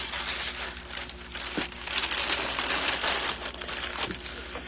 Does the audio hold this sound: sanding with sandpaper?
no